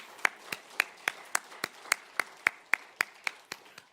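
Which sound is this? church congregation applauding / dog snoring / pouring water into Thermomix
church congregation applauding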